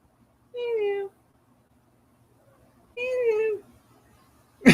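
A nervous pet cat meows twice, with two clear, drawn-out calls a couple of seconds apart in a quiet room, followed by a brief sharp noise at the end.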